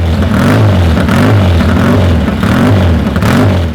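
A vintage 1960s-70s Triumph motorcycle engine runs loud and close, a steady low throbbing exhaust note with slight rises in revs throughout.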